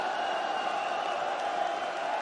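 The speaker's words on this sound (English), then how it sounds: "You can hear what the crowd want." A dense, steady roar from a large darts crowd at the Czech Darts Open, with massed chanting and cheering that stays continuous and even throughout.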